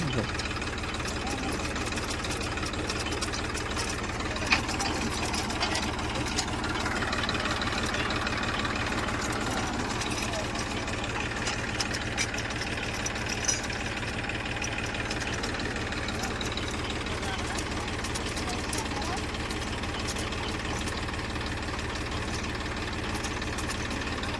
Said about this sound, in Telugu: ఇది బురద పంపులకు ఈ మోటార్ రా ఇది ట్రాక్టర్ రాదు